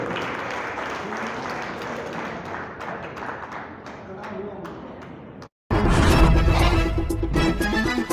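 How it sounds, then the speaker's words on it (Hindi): A crowd at a Haridwar comic poetry gathering claps loudly and densely to welcome a humorous poet from Delhi. The applause slowly thins out over about five seconds, then cuts abruptly to a louder voice talking over background sound. "जोरदार तालियों से अभिनंदन करें विजय चौबे"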